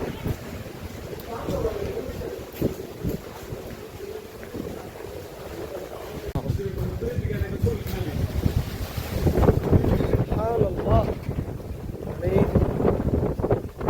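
Strong gusting wind ahead of a storm at Mawa, Bangladesh, buffets the microphone with a steady roar that builds louder toward the end, with voices talking faintly underneath.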